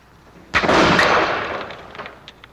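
A Pennsylvania muzzle-loading longrifle fires once outdoors in the woods, a sharp, loud crack followed by a long rolling boom that trails away over about a second, with faint echoes afterward.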